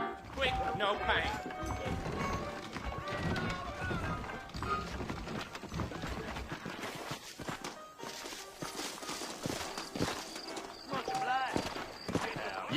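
Horses gallop in the Red Dead Redemption 2 video game on PS4, their hooves pounding in a busy, irregular clatter under game sounds, with voices talking.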